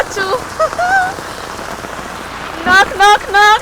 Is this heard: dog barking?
no